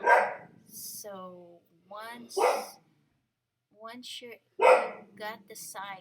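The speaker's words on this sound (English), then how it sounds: "sorry about the dog." A dog barks in short bursts in the background of a home craft session, with a voice speaking over and between the barks.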